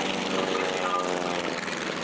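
An SE5 biplane flies in over an aerodrome display, its propeller engine a steady, broad drone that stays loud and constant throughout without any talk.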